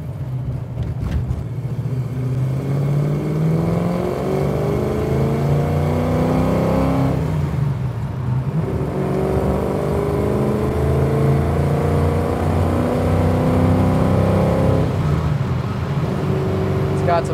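Steady engine drone from inside a 1967 Ford Mustang Fastback, its pitch rising through the gears in repeated climbs as it accelerates, loud and continuous.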